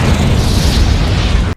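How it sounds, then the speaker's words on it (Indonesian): A bunker explodes in a loud, dense roar, broad and rumbling, holding at full force for over a second and then cutting off abruptly. "Tak lama berselang bunkernya meledak"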